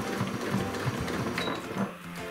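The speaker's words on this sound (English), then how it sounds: "I'm going to top stitch across the front and around the flap." Sewing machine top stitching across the front and around a bag flap, a steady rapid mechanical chatter of the needle running close and continuous throughout.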